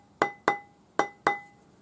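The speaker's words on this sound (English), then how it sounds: "round it up with the rawhide hammer" Four sharp, close taps from a rawhide hammer on a metal ring seated on a ring mandrel, each strike leaving a short bright ringing tone, in an even rhythm.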